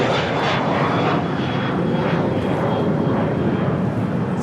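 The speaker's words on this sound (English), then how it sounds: "the ITA A350 now pushing back from the gates" Airliner jet engines of an ITA Airways Airbus A350-900 at LAX rumble steadily and fairly loud during pushback from the gate, a continuous broadband roar with a faint high whine throughout.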